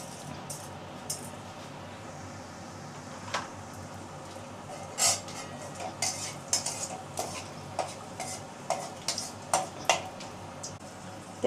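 Nigella seeds in oil in a wok, stirred: a soft, low background sizzle with a few scattered clinks and scrapes of a utensil against the pan, fairly quiet and close, with no talking.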